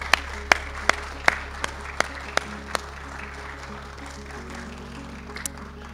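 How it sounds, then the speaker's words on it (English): Audience applause for Dr. J.D. Kelly at a piano scholarship gift announcement, heard as sparse, sharp individual claps spaced out over a low steady hum rather than a full ovation. "let's give him a round of applause"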